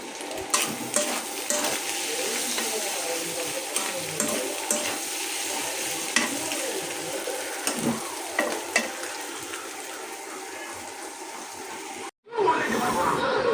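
Boiled noodles are stirred and fried in a pan in a home kitchen, giving a steady sizzle with repeated scraping strokes throughout, until the sound cuts out briefly near the end.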